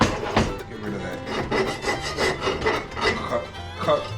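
Slag left from cutting being scraped and rubbed out of the inside of a 1949 Jeep Willys pickup front-end part, a close, steady run of gritty rasping strokes with no talk.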